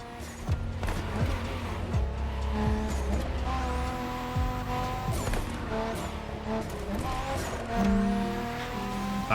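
A Nissan GT-R races in The Crew Motorfest, its engine droning and revving steadily with shifting pitch, gear changes and brief tire squeals, loud and continuous with game music faintly underneath.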